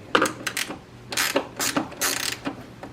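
A 13mm ratcheting wrench working on a battery terminal makes quick, close clicking runs of the pawl in several short bursts, with brief pauses in between.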